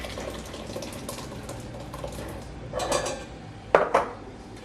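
A ladle scrapes and presses carrot and coriander soup through a metal conical strainer, giving soft clinks and wet scraping with a couple of sharper metallic knocks toward the end.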